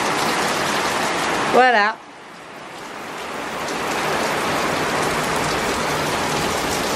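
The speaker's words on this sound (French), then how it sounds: "Regardez la pluie, j'espère que ça s'est calmé quand même" Heavy tropical downpour in Martinique, a steady dense hiss of rain drumming on surfaces, loud and close throughout, briefly broken by a short whistling tone and a spoken word before the rain swells back in.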